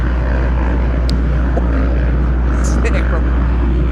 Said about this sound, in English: Old 2-stroke against new 4-stroke.